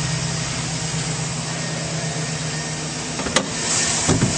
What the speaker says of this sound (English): It's a nice, clean engine bay. Running very smoothly.